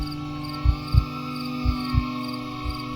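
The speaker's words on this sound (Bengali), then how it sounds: "ঝিঝি পোকারা" Crickets chirp steadily at night in a village, a continuous high trill with a few soft low thumps underneath and no voices.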